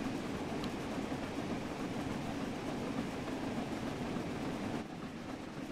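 Flying Scotsman steam locomotive running at speed in Train Sim World 4, a steady continuous rumble and rail roar with no breaks, loud and close throughout, dipping slightly near the end.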